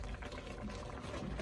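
Chicken and dumplings boil in a pot with a soft, continuous bubbling simmer, close and quiet, holding steady through the brief moment.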